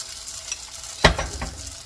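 Hot water cornbread batter going into oil in a skillet brings a sudden burst of sizzling over a steady low frying hiss, close by.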